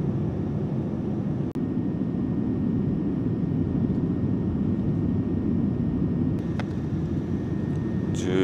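Inside the cabin of an ANA Boeing 787-10 airliner descending toward landing, a steady, loud, low engine and airflow roar fills the space, broken by one brief thump and a faint click.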